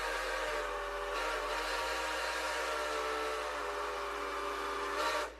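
A Twitch hype train alert sounds as a steady train-whistle-like tone over a rumbling rail-car bed, holding for several seconds at a moderate, even level with no talking.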